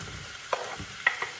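Mushrooms fry in a pan for a breakfast dish, a faint steady sizzle broken by a few sharp utensil taps and stirring knocks.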